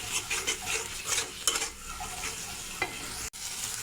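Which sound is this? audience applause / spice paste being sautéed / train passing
spice paste being sautéed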